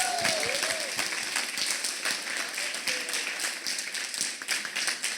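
A church congregation applauds in welcome, steady dense clapping filling the room throughout, with a few faint voices mixed into the crowd.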